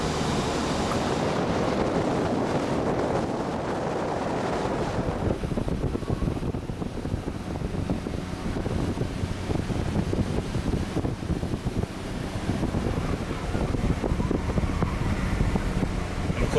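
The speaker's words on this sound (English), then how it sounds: "It is absolutely blowing a gale outside and we can just hear a little bit of wind noise inside." Gale-force wind heard from inside a 2011 Kia Sorento Platinum on sand, a steady broad rushing roar, loud and constant throughout.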